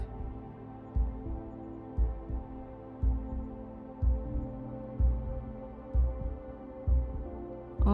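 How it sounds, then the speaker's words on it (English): Heavy, slow heartbeats thud about once a second in a dark video game, each low double pulse standing out over a steady droning ambient hum, with no talk. "In the darkness, I could hear no words but the heavy heartbeats of the dead."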